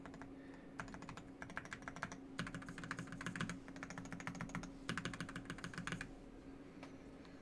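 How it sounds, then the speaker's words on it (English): Monsgeek M1 v5 mechanical keyboard typed on in bursts of rapid, close clacking keystrokes with short pauses between runs, over a faint steady hum and no speech. "the initial sound for this keyboard is something I would qualify to be on the lower end of"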